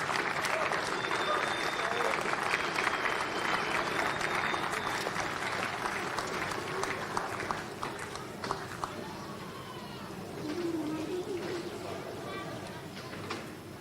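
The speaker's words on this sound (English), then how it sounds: "please, a round of applause for our local organisers" Crowd applause rings out for the local organisers at the closing ceremony of a men's softball world cup, loud and steady at first, then thinning as voices and a speaker begin talking over it.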